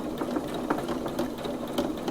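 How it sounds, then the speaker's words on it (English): A sewing machine runs steadily at an even pace while stitching slowly around a curve a quarter inch from the edge, its rapid needle clatter close and continuous with no talking over it. "If you've got a speed adjuster on your sewing machine, it's not a race."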